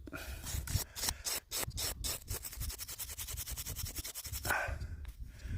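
A brush scrubs dirt off a freshly dug coin in a field, giving a run of quick, close, rasping strokes in a steady rhythm, then a pause and a few slower scrapes.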